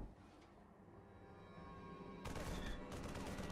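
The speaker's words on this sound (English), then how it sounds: "multiple Reavers can fire this Marine at the same time and you end up wasting Scarab shots" Several Reavers in StarCraft 2 fire Scarab shots at once, a quiet rumbling volley that breaks into a sharp, loud burst of blasts partway through.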